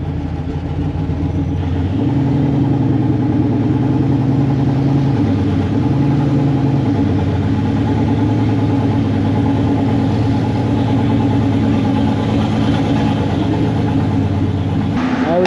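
The engine of a clean SS clone truck idles with a deep, steady rumble close by, its pitch stepping up and back down briefly before settling into a continuous loud drone.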